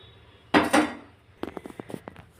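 A spoon scrapes and clatters against a pan while lemon rice is stirred, a couple of louder knocks followed by a quick series of lighter taps and scrapes, close and alone.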